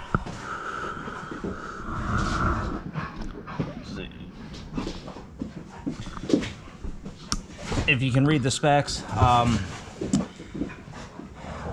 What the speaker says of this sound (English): sorry for the noise, my dogs are being crazy right now.